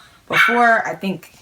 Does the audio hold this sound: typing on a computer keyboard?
no